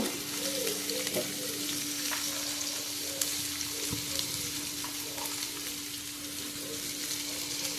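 Steady sizzling of onion and tomato frying in a pan, with a few stirring scrapes and knocks, no voices.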